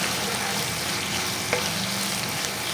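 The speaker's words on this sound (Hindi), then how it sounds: "कढ़ाई में हमने पूरा 1 प्याली ऑयल ले लिया है। अब हम इसमें अपनी प्याज ऐड करेंगे।" Onions fry in a full cup of oil in a kadhai with a dense, constant sizzle and a faint stir or two, with no voices over it.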